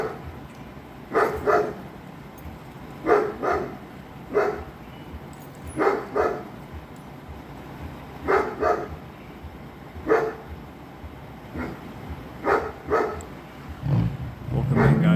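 A dog barks repeatedly inside a property at an assisted living home during a police standoff, muffled and fairly distant, with barks coming in short clusters of two or three over a steady background hum.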